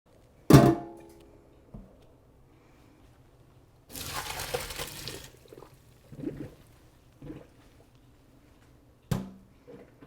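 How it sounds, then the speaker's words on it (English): Wilted spinach is drained at a kitchen sink: a sharp clank, then a short rushing pour of water about a second long, followed by scattered drips, splashes and light knocks, close by. "We're going to go over to the sink and drain this."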